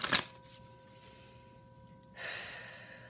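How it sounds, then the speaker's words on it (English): Tarot cards being shuffled by hand, a short burst of riffling near the start, then quiet room tone with a faint steady hum and a brighter hiss toward the end. "I'm just going to shuffle a few more times and then we'll get going"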